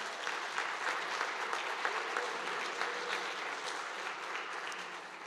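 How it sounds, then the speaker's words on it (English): Audience applause for sponsors and partners at a game jam opening event, a steady dense clapping that holds at even loudness throughout without pause. "Let's give an applause for all our sponsors and partners."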